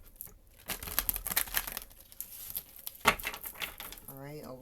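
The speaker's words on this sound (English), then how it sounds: "I'm going to shuffle" Tarot cards are shuffled in quick riffling bursts, crisp papery rattles close to the microphone, followed by a voice starting to speak.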